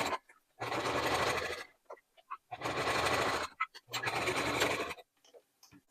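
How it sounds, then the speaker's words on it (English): A sewing machine stitches the fabric liner of a square packing cube in three sustained runs of rapid, steady mechanical chatter, separated by short pauses with faint handling clicks. "we're just going to stitch for about 2 inches along both of these sides."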